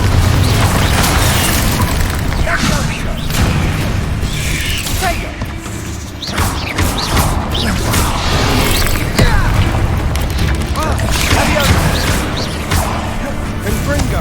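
A Confringo fire spell blast in Hogwarts Legacy: loud, dense bursts and booming impacts with crackling debris, recurring in waves over a busy, continuous combat soundscape.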